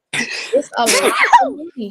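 A single sneeze bursts out close to the microphone, followed by a voice and other speech in a lively indoor setting.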